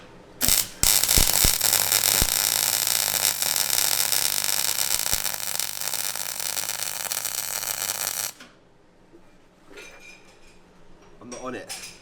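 A practice weld done before welding a steel roll cage gives a loud, steady crackling buzz that runs for about eight seconds and then cuts off, leaving quieter handling clatter.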